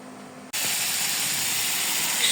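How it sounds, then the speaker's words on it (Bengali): Shol and taki fish heads sizzle in a hot pan, a sudden loud, steady hissing fry that starts abruptly after a brief quieter moment and carries on without pause, no talking over it. "শোল আর টাকি মাছের মাথা শুধু মাথা ভাজি করে নিচ্ছি"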